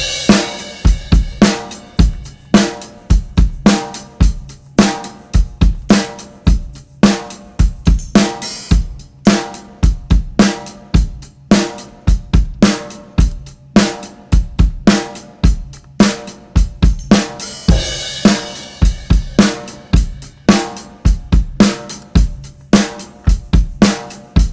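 A full drum kit from a rock song production plays a steady rock groove alone, with loud regular kick and snare hits under bright cymbals throughout.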